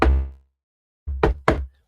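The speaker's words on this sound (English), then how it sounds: "knock on wood" Knocking on a wooden surface: one resonant knock, a pause, then a quick cluster of three more, close and loud.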